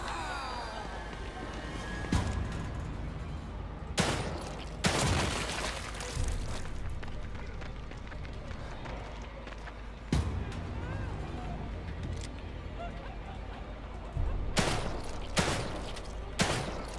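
Gunshots in The Evil Within 2, several sharp broadband blasts spaced irregularly over a steady background rumble, with a voice talking between shots.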